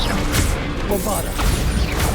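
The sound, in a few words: Bombarda explosion spell in the video game Hogwarts Legacy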